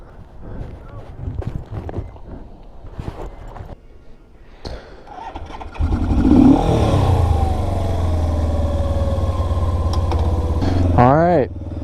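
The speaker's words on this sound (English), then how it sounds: "delivering stuff on an old motorcycle" An old Suzuki GS450 motorcycle starts up and rides, its engine droning steadily at close range after some earlier clatter, with revs rising near the end.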